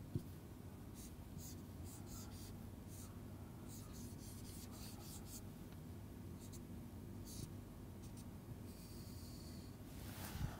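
Pen scratching across paper while someone draws a diagram, a long run of dry, close strokes in short repeated bursts over a constant low background hiss, with no voice.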